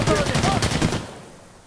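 Rapid gunfire in the multiplayer shooter Sandstorm, a dense burst of shots that then fades out, loud and close.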